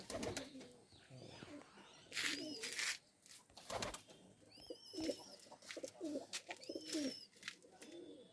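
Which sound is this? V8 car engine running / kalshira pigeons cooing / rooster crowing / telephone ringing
kalshira pigeons cooing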